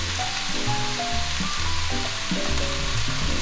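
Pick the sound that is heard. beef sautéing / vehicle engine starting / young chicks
beef sautéing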